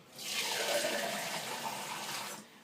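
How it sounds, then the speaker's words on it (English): Water pours steadily into a crock pot full of chicken bones and black peppercorns for bone broth, a continuous close splashing rush lasting a few seconds and then stopping, with no talk. "Cover it with water."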